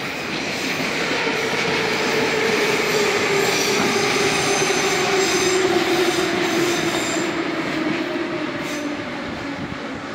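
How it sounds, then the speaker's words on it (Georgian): Metro train near a central station in Tbilisi rumbling past at close range, a continuous loud roar of wheels with a drawn-out squeal running through it, with no talking. "აი, აქ უკვე მატარებელი მოგრიალებს."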